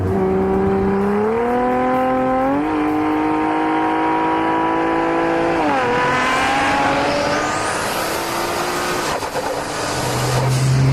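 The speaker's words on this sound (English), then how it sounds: "race gate flutter and turbocharger whine" A Nissan GT-R AMS Performance Alpha 12 pulls hard with rising and falling engine tones, turbocharger whine and fluttering wastegate chatter, loud and close throughout, with the revs climbing steeply near the end.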